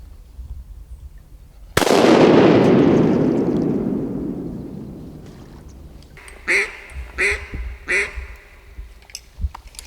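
A single loud shotgun blast while duck hunting on public land, its echo fading over several seconds, followed by a series of nearby duck quacks.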